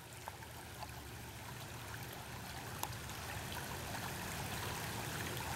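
Frog Creek's water flows below the banks, heard from above as a continuous, fairly faint rushing trickle with soft bubbling detail and no voices.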